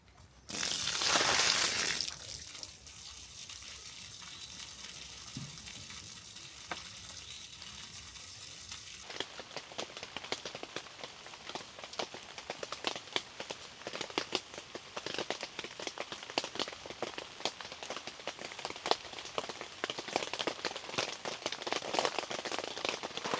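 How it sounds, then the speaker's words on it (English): Steady rain patters densely on a tent overhead in Shenandoah's wilderness, a continuous close drumming with scattered heavier drops, after a brief loud rush at the start. "as you can probably hear, it has been raining non-stop"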